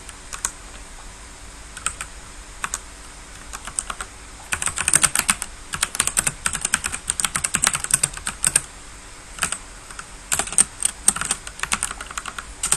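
Fast, irregular clicking of computer keys as Python code is typed, steady close-up keystrokes with brief pauses, quiet at first then denser bursts of typing.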